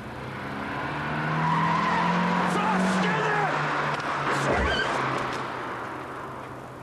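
A car pulls away with tires squealing and skidding, the engine swelling loud and then fading as it drives off, while voices shout over it.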